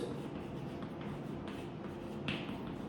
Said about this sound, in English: I am writing it in a smaller place